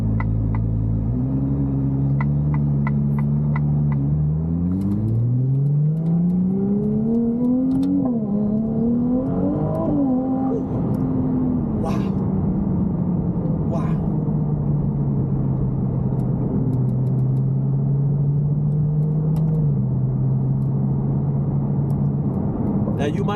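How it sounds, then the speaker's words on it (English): A Ferrari 296 GTB driven over a particularly rough road, its engine droning steadily from the cabin with revs rising and falling, a constant road rumble underneath and occasional thumps and knocks from the uneven surface. "This is a particularly rough road that I'm driving over"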